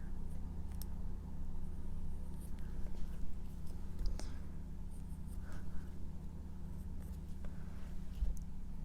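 Colored pencil scribbled back and forth over a drawing to darken it, a soft continuous scratching of lead on paper, faint and close, with no talking.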